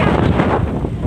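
Strong wind gusts across open hills near Dhinodhar, roaring steadily and close into the microphone with a broad, buffeting rush and no clear voices.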